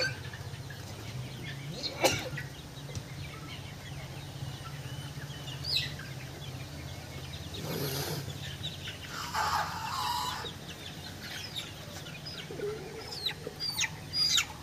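A chicken on a farm, one eye shut and being treated with eye drops, gives a few soft clucks and scattered faint calls over steady low background hum, with no talking.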